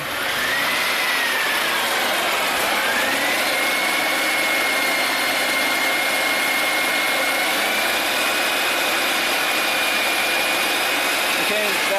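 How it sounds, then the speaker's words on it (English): A car engine running near, holding a steady hum that rises slightly in pitch as it is revved a little, then settles back toward idle, with a faint whine over a constant broadband roar. "Just rev it up just a little bit and then let it off."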